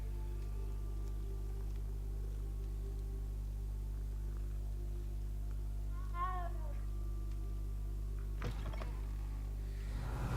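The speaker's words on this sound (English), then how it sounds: "Who's a good kitty?" A cat in the video game Hogwarts Legacy lets out a short, clear meow over a constant low in-game hum and background music, followed later by a brief rustling sound.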